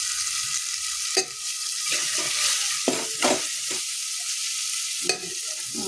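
Masala rice ingredients, with turmeric added, roast in a pan, a close bright sizzle broken by several clattering spoon scrapes and knocks against the pan; no speech.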